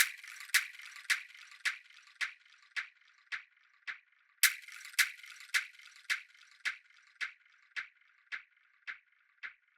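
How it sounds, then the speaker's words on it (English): A seed shaker rattles in regular, evenly spaced shakes, each a crisp burst of tiny rattling grains, repeating about twice per second and fading slightly. "This is the seed noise."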